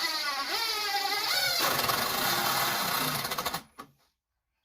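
A screw is driven into pallet wood while a raised bed is built, the tool's motor whining loudly and steadily for a few seconds before cutting off with a last short burst.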